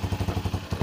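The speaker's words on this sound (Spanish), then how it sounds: "El día de hoy les voy a enseñar cómo suena un escape a Krapovic réplica" A 150Z motorcycle with a replica Akrapovic exhaust, silencer still fitted, runs with a steady, evenly pulsing low burble in a brief snippet.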